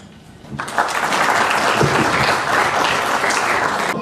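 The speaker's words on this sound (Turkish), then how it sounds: "Alkışlıyoruz ödül alan konuklarımızı." An audience at an architecture and urban design competition colloquium applauds award-winning guests, the clapping bursting in after a brief quiet moment and then holding as a full, even roar for several seconds.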